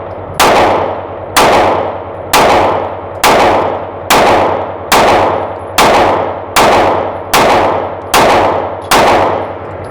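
Kimber CDS9 pistol firing about ten sharp, loud shots at a steady pace of roughly one per second, each followed by a short ringing decay.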